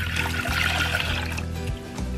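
Water poured from a container into a cooking pot while making gravy for a chicken and mashed potatoes bowl, a steady close trickle and splash lasting a couple of seconds, with a low hum in the background.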